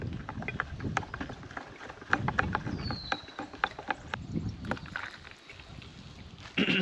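Gusty wind buffets the microphone beside a lake, with rumbling low noise and scattered knocks and rustles throughout, steady and close.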